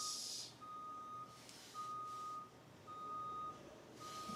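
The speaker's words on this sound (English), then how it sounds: "That's the garbage truck going by." A garbage truck passing by while reversing gives out a repeating electronic beep, four evenly spaced tones heard at a moderate distance over low engine rumble, with no speech.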